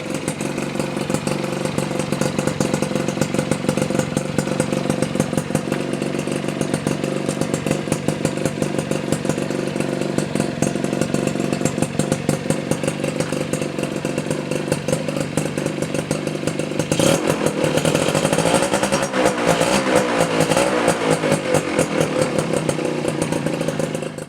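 A Suzuki RC 100 motorcycle with a stock engine and carburetor and a racing exhaust runs loud and close for the whole stretch, its raspy exhaust holding a steady roar with rougher revving surges near the end.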